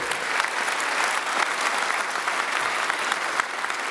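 Dense, sustained applause from a concert audience in a hall, many hands clapping loudly and evenly throughout with no pause.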